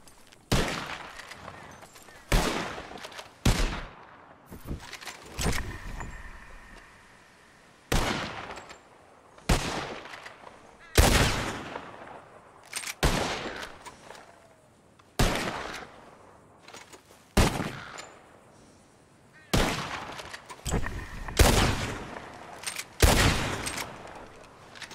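Rifle gunshots fired at birds in the Western game Red Dead Redemption 2, a series of loud, sharp cracks in irregular bursts, several shots in quick succession with short gaps between volleys.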